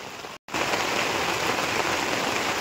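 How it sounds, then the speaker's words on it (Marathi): Heavy rain pours down in a dense, steady roar of drops on surfaces, constant and close after a brief gap at the start. "आणि आता पाऊस वाढला बरं का मित्रांनो"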